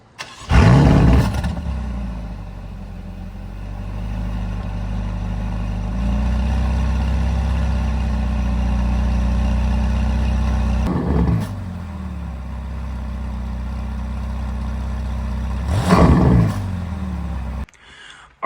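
A Ferrari California T engine fires up with a loud roar, settles into a steady deep idle, then gets two sharp revs that bark and fall back, heard up close with no talking.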